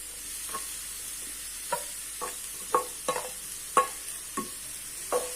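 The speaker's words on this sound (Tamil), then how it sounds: "இப்போ இதை வதக்கி விட்டுக்கலாம்" Shredded cabbage with moong dal sautéed in oil, a spatula scraping and knocking in the pan about nine times in an uneven rhythm over a soft, faint sizzle, with no voices.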